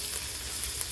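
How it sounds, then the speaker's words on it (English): Garlic, onions and olives fry in a pan for a vegan tomato, BBQ and chilli sauce, giving a steady soft sizzle with faint crackles. "Let it sizzle in. Let the garlic soften and fry up a bit."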